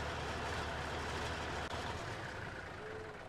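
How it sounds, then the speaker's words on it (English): A tractor engine drones loudly in the Farming Simulator 19 video game, a dense, steady mechanical roar with heavy low rumble and no break, heard on its own without talk. "That was a loud tractor."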